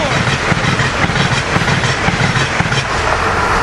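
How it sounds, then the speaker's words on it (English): Northeast Regional Train 148, hauled by an ACS-64 locomotive, passes close by with a loud continuous rumble and a rhythmic clickety-clack of wheels over rail joints. "Northeast Regional Train 148 coming through."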